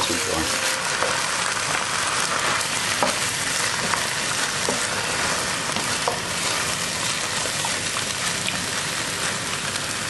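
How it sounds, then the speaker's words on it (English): Pasta with chicken, chillies and vegetables is stirred through sauce in a pan, a steady close sizzle with soft scraping and wet stirring sounds throughout. "And give it a good stir."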